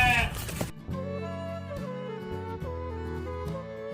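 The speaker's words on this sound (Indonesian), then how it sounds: "Nah kalau yang ini kambing Jawa. Kambing Jawa ini turunan PX." Java goats on a goat farm bleat again and again in long, wavering, overlapping calls, loud and close, after a brief rustle at the start.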